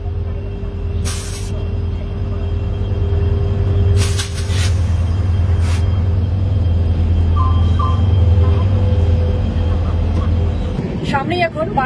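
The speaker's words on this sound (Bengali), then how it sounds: "এখানে মাত্র 5 মিনিট দাঁড়িয়ে কিন্তু ট্রেন ছেড়ে দিল" Poorva Express train pulling out of a station, a heavy low rumble building steadily, with sharp hissing air bursts and a few brief high beeps near the end.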